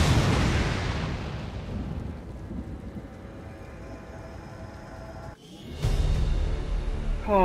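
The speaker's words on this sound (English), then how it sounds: "Detonating charges." Explosive charges detonate in the video game XCOM 2 as a heavy, rumbling blast that fades out, followed by a sudden loud burst of a second explosion with a wide, roaring noise.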